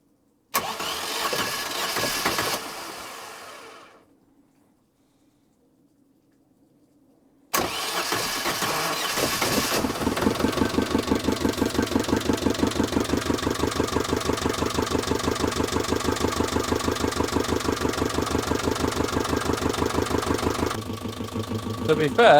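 A reinstalled sailboat engine turns over briefly and dies, then after a few seconds of near silence fires up and settles into a steady, slightly uneven, knocking idle close by.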